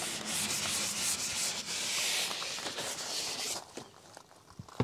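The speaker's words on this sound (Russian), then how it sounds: "удаляем прямыми ровными движениями остатки нашего чистящего средства" Cloth wiped in straight, even strokes over a white Tesla seat to lift leftover cleaning product, a steady close rubbing swish that fades near the end, with no talk.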